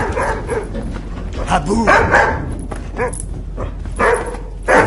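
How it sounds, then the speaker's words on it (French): A dog in a French drama film barks and yelps repeatedly in short, loud bursts close by, interspersed with whimpers, while a person speaks over it. "Pourquoi tu aboies?"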